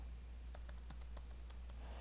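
Keys clatter on a computer keyboard as code is typed for a K-means analysis in R, a quick uneven run of a dozen or so crisp clicks over a steady low hum, close by and with no speech.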